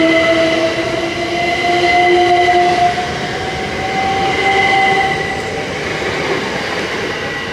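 A Class 387 electric multiple unit hums steadily nearby, with sustained tonal whines from its traction equipment and a constant rumble of running gear, loud and uninterrupted for several seconds with no talking.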